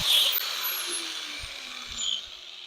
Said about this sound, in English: So the cutoff wheel probably work better on that.